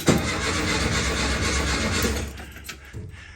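A Meyers Manx Volkswagen dune buggy engine cranks and catches, holding a loud, rough mid-pitched running sound for about two seconds before fading to quieter sputters.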